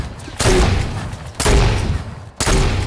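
Egg launchers firing in a video game, three heavy booming blasts roughly a second apart, each with a sharp onset and a rumbling tail.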